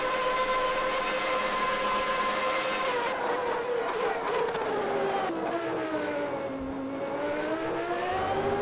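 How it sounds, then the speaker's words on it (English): Minardi Formula One car engine in a 1992 Austrian Grand Prix qualifying video game, a loud continuous whine with tones sweeping up and down as the car shifts and accelerates, steady throughout with no talk. "Listen to that engine roar."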